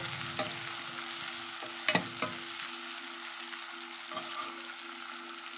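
Chopped onions, cut fairly thick, fry in a pan for a ridged gourd and chana dal curry, giving a steady broadband sizzle with a few brief stirring scrapes and clinks near the middle.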